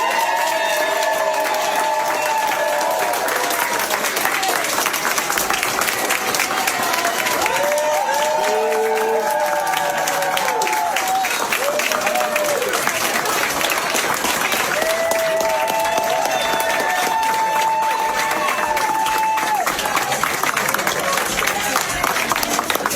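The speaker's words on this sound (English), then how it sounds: "footage has already surfaced of the rapper being welcomed back at his label's headquarters to literal cheers and applause from his team" A team at a record label's headquarters cheers and applauds a rapper's return, with sustained clapping and crowd voices throughout, rising in bursts of excited shouting alongside chatter.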